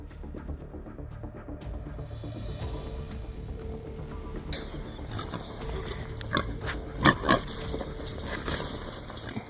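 Wild boars grunt inside an iron trap set near cornfields, low rough grunts and snorts over continuous outdoor noise, with a brief louder burst near the end.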